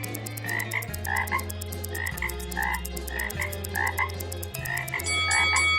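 Frogs croak in a repeated chorus of throaty calls, several short rhythmic bursts spaced about half a second apart over a low steady drone, close and clear with no talk.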